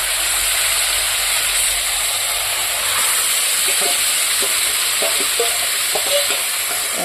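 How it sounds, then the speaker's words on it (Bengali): Meat sizzles and frys steadily in a pan while a utensil stirs it, scraping and clicking in a loose rhythm over the constant hiss, close and loud, with no talking. "ভালো করে নাড়াচাড়া করে নেব মাংসটাকে এবার বড় নাড়াচাড়া করে দিচ্ছে"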